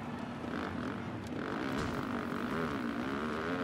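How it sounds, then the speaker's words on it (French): Motocross bikes from the MXGP 2019 video game drone continuously in the background, a buzzing, steady engine hum with slight pitch wavering and no talk over it. "on entend le bruit de fond des motos"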